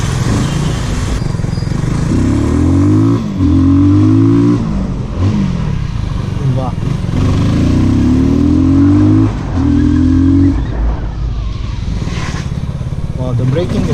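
Benelli Leoncino 250 motorcycle accelerating hard, its engine note climbing through rising revs in repeated pulls between gear changes, loud and close with wind rush and a rider talking over it.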